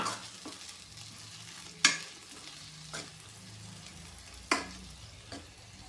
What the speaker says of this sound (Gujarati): મિક્સ કરી દેવાનું છે।